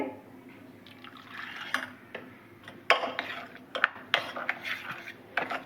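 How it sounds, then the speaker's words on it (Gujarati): Water trickles and splashes into a bowl of semolina in small pours, with light clinks of a spoon against the dish. "આપણે થોડું થોડું પાણી નાખવાનું છે"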